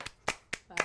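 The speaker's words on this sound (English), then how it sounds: "that's another round of applause" Four separate hand claps in a podcast studio, sharp and fairly quiet, spaced roughly evenly about a quarter second apart, with no talking over them.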